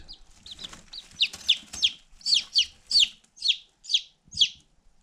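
Chickens cluck up close in a quick run of bright, rhythmic calls, about a dozen in a row, with no voices over them.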